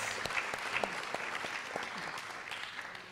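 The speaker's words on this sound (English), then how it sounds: "How about a big round of applause putting this whole thing together?" An audience at a Motown-themed Shabbat event claps in sustained, dense applause throughout, fairly close and steady.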